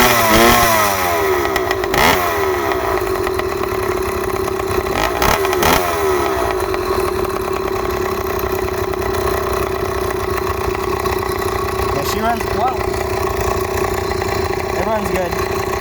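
Small engine on a snowmobile, quad, mini bike or motorized bicycle running at a steady idle, loud and close throughout, with a few brief revs near the start and a person talking over it.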